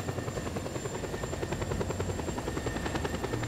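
A helicopter in Just Cause 2 drones with a steady, loud rotor thrum and whine, rhythmic blade pulses continuing throughout without any talk.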